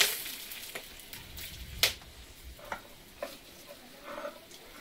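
Dry red chillies, whole garam masala and bay leaves crackle in hot oil with a soft sizzle, broken by a few sharp pops and scraping stirs, close and fairly quiet.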